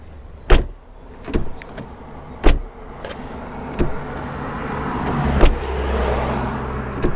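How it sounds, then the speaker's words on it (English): The doors of a 2023 BMW 540i shut with solid, heavy thumps at uneven intervals, with lighter clicks and a low hum in between. "now have a listen at this door sound check"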